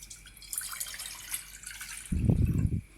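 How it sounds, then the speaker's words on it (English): Water from a cup poured into a cooking pot to start a sugar syrup, a short splashing burst near the end after quiet room noise. "add a cup of water into the pot"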